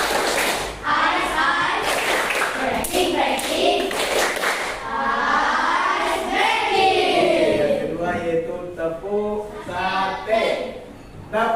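A group of schoolchildren standing for a classroom ice-breaking clapping game, tepuk sate, with bursts of rhythmic claps and thumps alternating with lively chanting voices, close and energetic.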